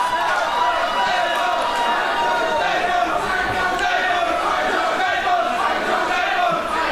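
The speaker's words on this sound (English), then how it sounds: "The fans cheering on their champion." Wrestling fans cheer their champion at a live show, with a dense, steady roar of crowd noise and shouting filling the arena throughout, loud and continuous with no distinct pauses.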